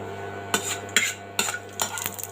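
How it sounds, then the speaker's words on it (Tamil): Mustard seeds pop in hot oil in a pan while tempering rice, giving about four sharp crackling bursts over a low steady hum. No one speaks. "கடுகு வெடிக்க ஆரம்பிச்சிருச்சு."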